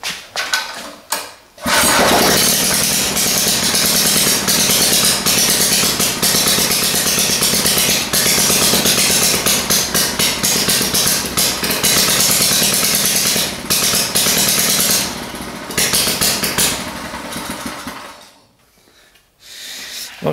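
A 200cc pressure washer engine, running without its exhaust fitted, starts after a brief pause and then runs loud and steady for about sixteen seconds with a dense, rattling drone before cutting out near the end.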